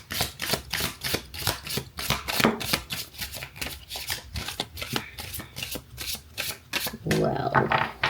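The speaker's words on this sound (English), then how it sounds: "Maybe we should shuffle just a little bit here." Cards riffled and shuffled in rapid, repeated bursts of crisp flutters, close by, with a voice talking quietly at times.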